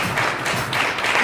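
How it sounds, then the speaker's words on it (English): Congregation hand clapping in praise at a memorial service, a dense steady wash of many hands throughout, fairly loud with no pauses. "give God a great hand clap of praise."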